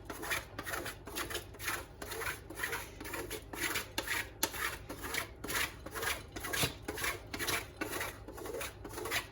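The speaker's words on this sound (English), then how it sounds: "the final element, just to finish it off, is going to be the last little bit of Galaxy, just to grate over the top of it" Galaxy chocolate is rubbed over a grater onto a cheesecake, making a steady series of short raspy scrapes in quick repeated strokes, close and fairly soft, with no talking.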